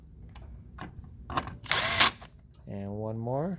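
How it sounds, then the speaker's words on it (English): Screws being driven into the plastic display cover of a Ricoh MP C-series copier, a short burst of power-driver whirring amid light handling clicks, close and moderately loud. "Put those three screws back"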